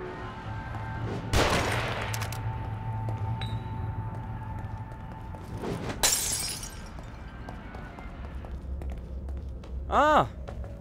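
Enemy gunfire in the horror game The Evil Within: two loud, sharp cracks several seconds apart over a low ambient hum, with a voice talking throughout.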